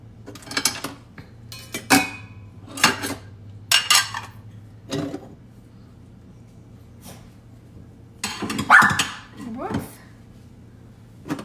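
Dishes, pots and cutlery clatter in a kitchen sink during washing-up, with sharp clinks and knocks in irregular bursts over a low steady hum and quieter gaps between.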